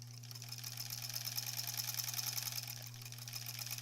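A sewing machine runs steadily for a few seconds during quilt-as-you-go block preparation, giving a close, even mechanical hum and whir without pause and with no talking.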